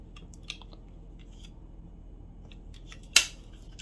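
A mousetrap is pulled back against its stiff spring until it locks with one sharp, close click near the end, after some quiet fiddling and faint handling taps.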